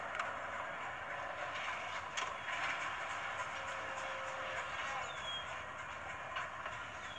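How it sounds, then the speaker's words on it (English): A very short grain hopper freight train rolls past at a distance, with a steady rumble, occasional clanks and a faint hiss. "Just a very short hopper train."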